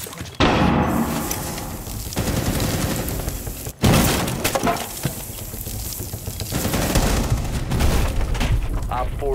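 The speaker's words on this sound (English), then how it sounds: "Flashbang out." A flashbang grenade goes off in Rainbow Six Siege, a sharp blast near the start followed by another sudden burst partway through, amid dense gunfire-like crackle and game noise.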